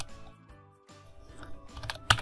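A few keystrokes on a computer keyboard as numbers are entered into a spreadsheet, soft scattered clicks ending in a sharper tap, close and quiet against faint background hum.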